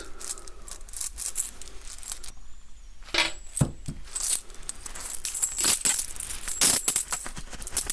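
Metal coins clink and jingle in scattered bursts, growing busier and brighter toward the end, close and fairly loud.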